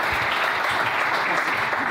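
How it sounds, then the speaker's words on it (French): Church congregation applauding together to acclaim the Lord during a French-language Sunday sermon, steady dense clapping filling the room throughout. "Est-ce qu'on peut acclamer le Seigneur?"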